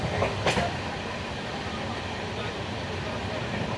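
The Vivek Express, heard from a general-class coach, runs at speed with a steady, loud rolling rumble and rattle, while a person talks over it.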